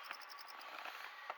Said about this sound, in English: You can hear crickets in there.